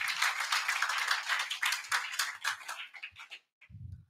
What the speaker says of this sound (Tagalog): Palakpak muna.